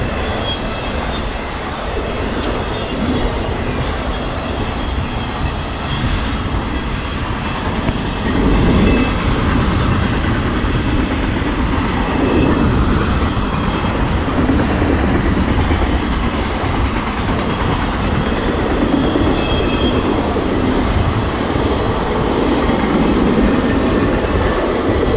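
A long CSX intermodal freight train carrying trailers rolls past steadily in Erie, Pennsylvania, with continuous rumbling, rattling cars and clickety-clack over the rails, loud and unbroken throughout.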